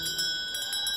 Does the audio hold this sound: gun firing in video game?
no